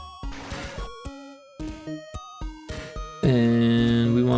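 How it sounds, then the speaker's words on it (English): Chiptune sound effects from a GB Studio game play in a quick string of short bursts and blips, ending in a sustained buzzy tone, including a balloon pop, loud and alone. "And then I think we got one called balloon pop."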